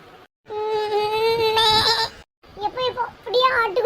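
A person mimics a lamb's bleat, drawing out a long, wavering, high-pitched cry, then breaking off into shorter, shakier bleats.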